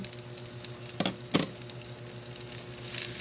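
Onion and garlic sizzle steadily in hot oil in a pan, a continuous close frying crackle with a couple of sharper spits and stirring clatters partway through, no talking.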